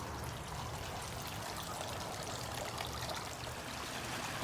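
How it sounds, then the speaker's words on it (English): Creek water spilling steadily into a water lily pond at a plant nursery garden center, a continuous soft splashing and pouring rush, fairly faint and even, with no voices. "As you continue on down the creek, it then spills into our water lily pond"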